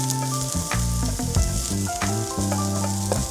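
Minced garlic and vegetables sizzling in hot oil in a pan, a loud continuous hiss and crackle with a few stirring knocks, close up with no voices.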